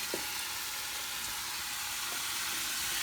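Onions, chilli, parsnip and celery gently sweating in a pan, a soft steady sizzle and hiss with a few faint stirring clicks, close and continuous with no talk.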